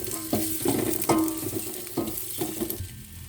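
Garlic and onion sizzle in a hot pan while a utensil stirs them, making a steady frying hiss broken by repeated scraping strokes.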